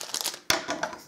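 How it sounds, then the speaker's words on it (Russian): Crinkly plastic rustling close by, with a sharp snip-like burst midway followed by more crackling handling of the bag. "Разрезаем пакетик."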